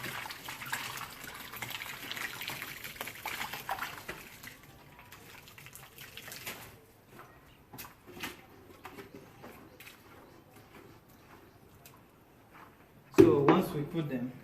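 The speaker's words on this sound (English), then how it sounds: "We'll start by pouring them." Plaster of paris mix poured into a mould for casting a board, a soft, low liquid wash running steadily under the room tone, with a sharper splash burst near the end.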